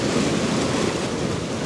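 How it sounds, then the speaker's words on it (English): Ocean surf draining out over shoreline rocks during a landscape photography shoot, a continuous rushing wash of water with some wind noise across the microphone, close and fairly loud with no voices. "this water's nice going out"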